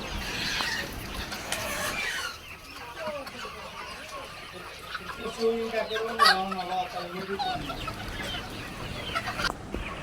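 Chickens cluck and murmur close by in a steady chorus, with a few louder calls rising over the flock and a voice speaking faintly.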